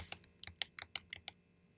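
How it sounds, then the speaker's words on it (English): Fingers tap out about eight quick, crisp keystrokes on a computer keyboard in an uneven rhythm. The taps are close and quiet, and no one speaks over them. "So now I'm going to type in a 2."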